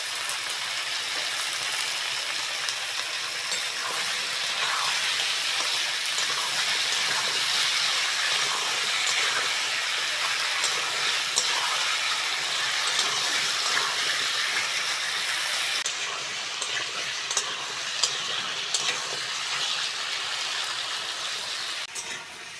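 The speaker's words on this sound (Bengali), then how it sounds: "কচু আর আলুটা ভালো করে ভেজে নিয়েছি।" Chunks of taro and potatoes fry in a pan in a Bengali kitchen. A loud, steady, close sizzle hisses continuously throughout with no talking.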